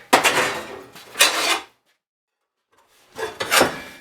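Sheet steel snipped on a bench shear, two close, loud cutting strokes with a crunching, rasping edge, a short quiet pause, then a third stroke.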